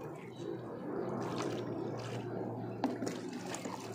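Water being poured into a tub to fill it while settling a potted plant, a steady soft splashing and trickling stream under light background noise.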